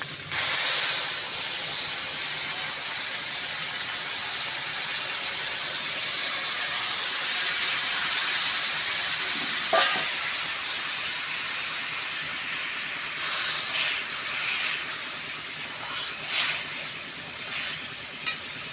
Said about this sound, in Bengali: এবার আমি এই যে বেগুন আর আলুটা ঢেলে দেবো।